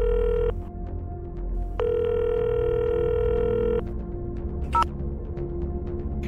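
Telephone tones on a call line as a caller is patched in: two long, even buzzing rings separated by a short gap, faint over a low background hum, with no talking.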